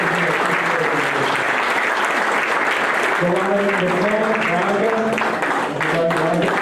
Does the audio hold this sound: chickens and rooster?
no